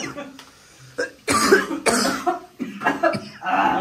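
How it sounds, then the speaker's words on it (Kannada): Several harsh coughs from a person in a casual bachelor gathering, loud and close, coming in uneven bursts with brief gaps and some throat clearing between them. "ಇಷ್ಟ ತಕ್ಕ ಯಾರು ಕೆಮ್ಮಿರ್ಲಿಲ್ಲ."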